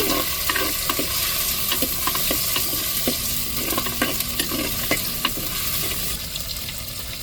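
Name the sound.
tomatoes and chilies added to sizzling tempering for crab curry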